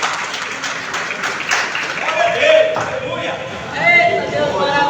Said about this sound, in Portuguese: E as palmas agradecem o nome do Senhor.